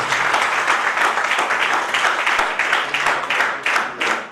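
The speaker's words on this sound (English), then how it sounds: "I request the audience to give him a big round of applause for our vice chancellor" Seminar audience gives the vice chancellor a round of applause, loud and close, with sustained dense clapping and a faintly pulsing rhythm from start to finish.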